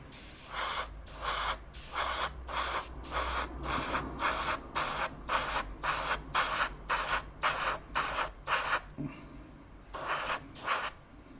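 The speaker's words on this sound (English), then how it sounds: "So I'm going to be rubbing some of that down." Rhythmic rubbing strokes sanding down paint on a model scrape back and forth about a dozen times at a steady pace, then a brief pause before two more strokes.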